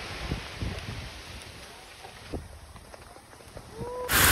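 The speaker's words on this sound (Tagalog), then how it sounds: "Nakakatakot kasi yung hangin." Strong typhoon wind buffets the microphone in gusty, rushing bursts outdoors on a street, with a faint voice briefly underneath and a sharp loud blast of wind noise at the end.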